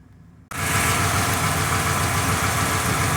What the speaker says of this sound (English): Start her up, she's running.